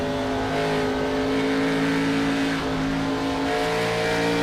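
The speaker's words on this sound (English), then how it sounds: "Really working the throttle." A Gen 6 Cup Series race car at Nashville revs hard, its engine droning loud and steady with strong harmonic whine throughout as the throttle is worked during close racing, no voices.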